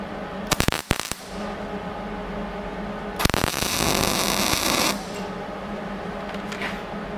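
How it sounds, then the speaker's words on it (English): Welding a formed metal medallion patch on a Case 830 tractor: a short crackling burst of arc noise, then a longer buzzing, spitting run of nearly two seconds, close up with quiet pauses between and no talking. "No, it's welding better now."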